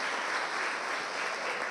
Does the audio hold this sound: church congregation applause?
yes